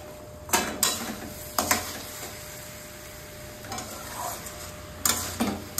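Eggs slid into a pan of thin potato curry broth, giving a few brief soft splashes and stirring clatters over a steady low simmer, no voices.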